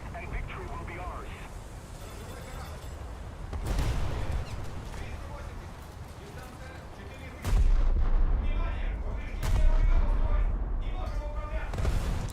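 Heavy cannon fire and thunderous detonations rumble through a naval warship battle game as a British destroyer's front ammo rack is struck, several booming blasts rising over steady background noise and a talking voice.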